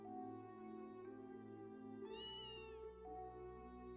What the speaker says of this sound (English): This must be our cat.